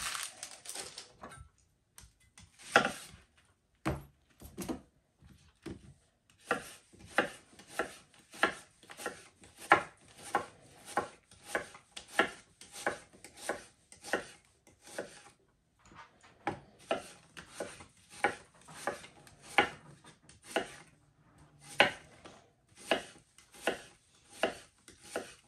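A sharp knife chops onions on a board in a steady series of crisp, close knocks, about one per second with brief pauses, and no voices.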